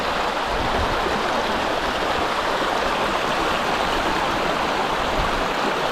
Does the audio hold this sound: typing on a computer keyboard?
no